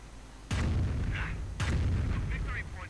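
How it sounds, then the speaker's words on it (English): Nebelwerfer rocket artillery bombarding in a war video game: two loud, close booming bursts about a second apart, each trailing into rumbling, crackling debris, with brief whistling rocket-like tones between them. "Numerous Nebelwerfers creating their own little battery are holding behind the lines, continue bombarding this area"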